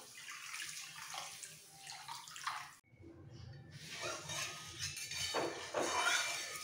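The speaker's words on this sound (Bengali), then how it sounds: "এই চিকেন কষানো কড়াইতে দিয়ে দেবো জল, এই জলটাই ধুয়ে কুকারে দেব।" Water poured into a kadai used for frying chicken for a chicken and vegetable curry, splashing and running steadily with a brief break, close and fairly loud.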